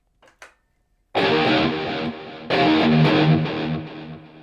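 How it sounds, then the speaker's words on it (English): Electric guitar run through an external echo pedal in a Helix rack's left-channel loop: a few faint picked notes, then loud distorted chords that ring with repeating echoes, swelling again midway and trailing off. "you should be hearing the echo mainly in the left channel"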